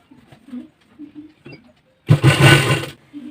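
A sewing machine stitches blouse fabric in one loud, dense burst of about a second, with quieter handling noises and soft movement before and after.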